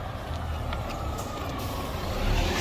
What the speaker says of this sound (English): You can see one of the buses coming out of the station.